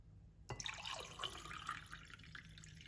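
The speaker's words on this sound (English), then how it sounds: "I will pour water." Water is poured into a glass holding lime juice mixed with half a teaspoon of cayenne pepper, a steady close splashing trickle that starts abruptly and runs on alone without talk.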